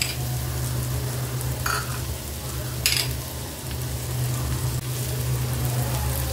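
Red and green capsicum with cabbage sautéing in a pan, a steady close sizzle with occasional scraping stirs throughout, over a constant low background hum.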